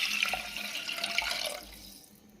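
Water is poured into a tomato and black pepper rasam mixture in a cooking pot, a steady splashing pour lasting about one and a half seconds before it cuts off into quiet.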